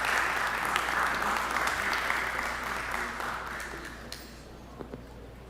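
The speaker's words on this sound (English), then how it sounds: "How about a round of applause for them and all of their hard work" Audience applause at a special commission meeting, steady clapping from a room of people that gradually fades out, leaving a few isolated claps near the end.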